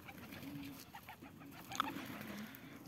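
Pigeons coo softly and intermittently at a bird feeding spot, low faint calls over quiet outdoor background, with a brief higher chirp partway through.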